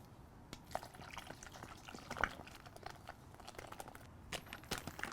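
Dark beer pouring into a bowl of marinade with cayenne pepper and lime juice, a low steady liquid wash with scattered splashes and crinkly clicks over about five seconds, close and fairly quiet, with no talking.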